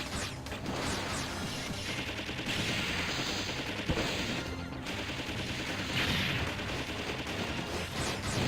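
Enemy ships firing in Mega Man Legends, rapid bursts of gunfire and booming impacts that rise and fall in loud clusters through the whole stretch.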